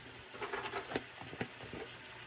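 A stir fry sizzles in a pan, a faint steady hiss broken by a few soft crackles and stirring clatters, heard alone without talk.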